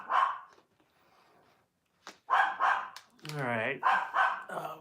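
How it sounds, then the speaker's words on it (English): A dog barks outside in short bursts, fairly loud, between stretches of a person talking nearby. "My dog is having a fit outside, so I will be right back in 1 second."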